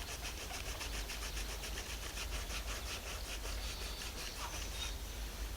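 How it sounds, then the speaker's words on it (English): Sandpaper is worked back and forth over the surface of a brain-tanned buckskin hide, producing a quick, rhythmic rasping scrub close up, steady for several seconds over a low background hum, with no talk. "You can grab some sandpaper and you can work it like that."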